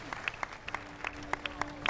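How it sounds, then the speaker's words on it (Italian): An audience at the Miss Europe Continental 2015 beauty pageant applauds with sparse, distinct hand claps, a light scattered patter with a faint tone sustained underneath. "Allora, un applauso."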